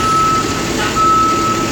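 A truck's reversing alarm beeps steadily as it backs up to drop a trailer at a loading dock, a sustained tone sitting over loud, continuous engine rumble and broadband yard noise.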